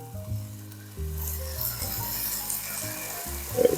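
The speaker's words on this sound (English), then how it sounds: "Got 4 strips of bacon going." Four strips of bacon fry in a pan, giving a steady close hiss and crackle with a low hum and faint tonal music underneath, ending in a few louder pops.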